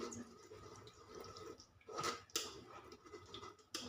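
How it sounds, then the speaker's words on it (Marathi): Tamarind pulp is squeezed by hand in water for a tamarind-jaggery chutney, giving faint, close wet squishing and dripping with a few sharper splashes. "आता आपण ह्या हाताने अर्क काढून घेऊया"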